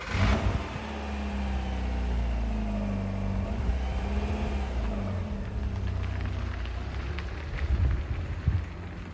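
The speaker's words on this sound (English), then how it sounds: "Let's take this one for a drive." Rover 214 R8 Cabriolet driving in winter: a steady mid-pitched engine drone with road and wind noise throughout, rising briefly near the end as the engine works harder.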